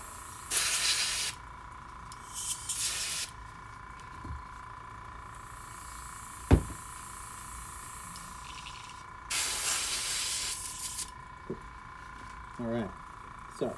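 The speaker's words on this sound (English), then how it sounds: "Just changing airbrush paint colors at the moment, so nothing too exciting." An airbrush spraying paint gives off several short, airy hissing bursts separated by quieter pauses. A steady faint background hum and a single sharp click sit in the middle.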